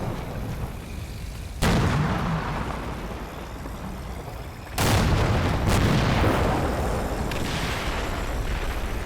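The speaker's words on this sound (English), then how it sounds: "Oh, some supporting fire." Distant artillery fire in the WWII tactical game Combat Mission Red Thunder: two heavy booms, one near 1.6 s and a louder one near 4.7 s, each followed by a long rumbling roll over a steady background of battlefield noise.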